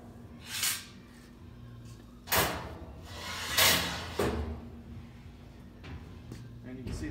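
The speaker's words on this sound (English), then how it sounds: "you can see the door is really simple to close, just one hand" A Sedona BBQ pit smoker door swings shut with a few dull metallic thumps and clunks, close by, spaced across several seconds under a steady low hum.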